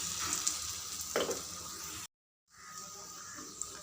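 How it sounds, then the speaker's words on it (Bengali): Thankuni leaf fritters (bora) frying in hot oil, a close steady sizzle and crackle that cuts out for a moment and then resumes. "বড়া দিয়ে দেবো এইভাবে আমি সব বড়াগুলো দিয়ে দেবো এর মধ্যে"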